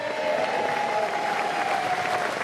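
Ministers and advisers outside Downing Street give a sustained round of applause and cheers as Boris Johnson departs, steady dense clapping from a crowd close by, with no speech.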